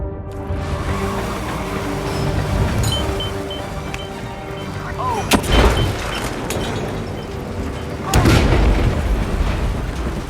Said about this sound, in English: Something detonated in the proximity.